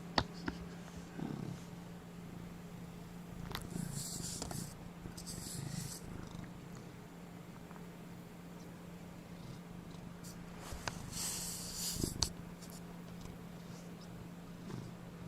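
A cat purrs steadily up close, a continuous low rumbling drone that runs through the whole stretch, with a few brief rustles and soft noises around it.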